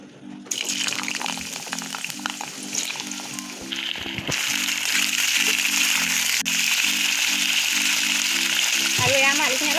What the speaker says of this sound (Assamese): এয়া মই আলুখিনি অলপ ৰঙচুৱা হোৱাকৈ ভাজি ল'ম